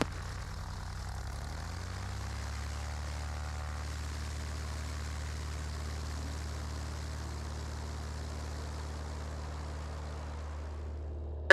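A single-engine light aircraft at Oshawa runs up to full power for its takeoff roll on runway 30. The close, loud propeller drone climbs in pitch over the first couple of seconds, then holds a steady, even roar.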